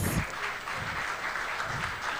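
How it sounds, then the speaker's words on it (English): Applause from an audience at a 2023 roundtable gathering, a moderately quiet, continuous patter of many hands clapping without a clear peak. "Give her a round of applause, please."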